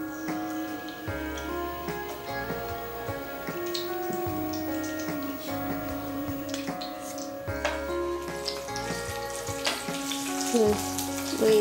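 Green chillies fry in hot oil with a moderate sizzle and crackle, mixed with clinks and tonal kitchen ringing throughout.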